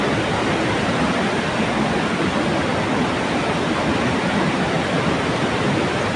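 Strong rushing water at the Old Wawa Dam in Montalban, Rizal, a dense and steady roar of churning flow that fills the whole clip without pause.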